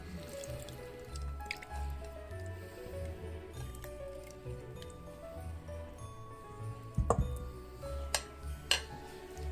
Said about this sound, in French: Et je mélange le tout pour que ce soit bien homogène.